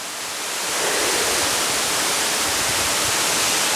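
Jaein Falls in Yeoncheon, South Korea, pours out a steady, loud summer roar of rushing water, a dense unbroken wash that swells slightly in the first second and then holds constant, with no voices.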